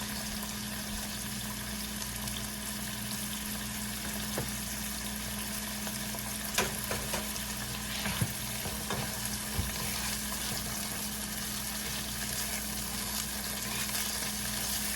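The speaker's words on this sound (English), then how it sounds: "We're going to let those saute for a couple more minutes" Spicy beef filling for Panamanian-style fried empanadas sautés in a pan with a steady, even sizzle, joined by a few sharp clinks of a utensil against the pan partway through.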